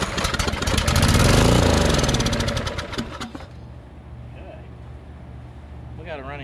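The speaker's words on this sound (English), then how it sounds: "We got a running engine" A small engine sputters to life and roars loudly, then drops to a steady idle with a low rhythmic chug as a voice speaks briefly near the end.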